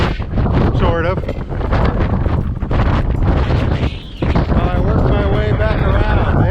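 Strong wind buffets the microphone on a cold cruise ship deck, producing loud, continuous rumbling gusts with a brief lull in the middle, while a voice talks over it throughout.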